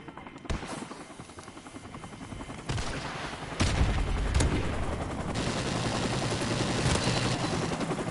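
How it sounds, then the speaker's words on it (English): Helicopter flying overhead in the video game Call of Duty, a loud, thick rotor rumble that swells and stays heavy, mixed with rapid gunfire bursts. "That was a fucking chopper"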